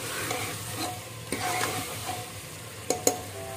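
Purani Dilli style mutton qorma masala frying and being stirred in a pan: a steady close sizzle broken by a few sharp scrapes and knocks of the spoon, with no voices.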